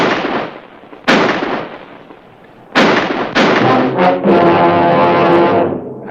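Gunshots in a western movie set in a frontier town near Tombstone: two loud, booming reports with long echoing tails, followed by a sustained roaring blast, all close and alone without talk.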